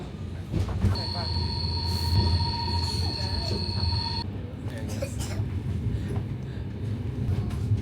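Inside a moving train in Norway, a low rumble and rattle run steadily while a high whistling tone sounds for a few seconds, then fades.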